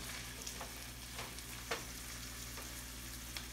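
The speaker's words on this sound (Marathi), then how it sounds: "पहिल्यांदा आपण हे सगळे भाज्या तेलामध्ये चांगलं परतून घ्यायचं" Mixed vegetables being sautéed in oil over a low flame, giving a soft, steady sizzle with faint stirring scrapes, quiet and close.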